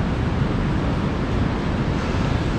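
Steady broadband rush of water at a sandy beach beside a waterfall in the Canadian wilderness, continuous and fairly loud with a wind-like roar throughout, no voices.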